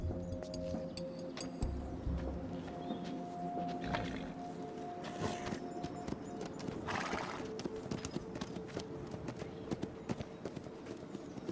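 Horse hooves clip-clopping at a steady rhythm, with a couple of loud neighs and whinnies rising above the trotting and some background noise.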